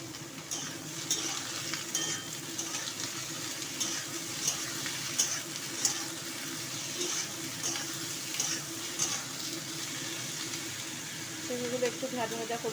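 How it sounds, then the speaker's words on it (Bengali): Ridge gourd pieces fry and get stirred in a pan for a Bengali dish with biulir dal, a steady soft sizzle with scraping stirs and a few brief clinks running throughout. "ঝিঙেগুলো একটু ভাজা ভাজা করে নেব।"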